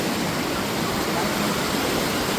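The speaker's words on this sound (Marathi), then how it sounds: "ते बघ ना इकडे लाटा बिटा कशा लागल्या." Sea waves wash onto the Konkan coast in a steady, loud broadband rush of surf that continues without a break.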